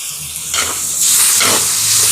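Tomatoes sautéing in a hot pan make a loud, continuous sizzle and hiss, with stirring sweeps surging through it a few times and no voices.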